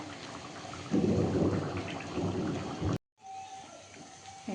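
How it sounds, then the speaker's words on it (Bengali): A thunderstorm with rain outside a home kitchen during evening cooking: a loud, broad rumble and steady rain wash fill the first three seconds, then the sound cuts out abruptly and resumes as quieter rain. "ঝড় বৃষ্টি এসছে"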